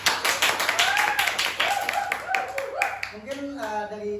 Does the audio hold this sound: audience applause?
yes